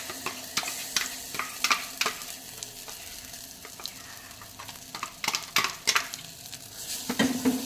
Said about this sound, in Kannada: ಸ್ವಲ್ಪ 1-2 ನಿಮಿಷ ಫ್ರೈ ಮಾಡಿ ಮಸಾಲೆನ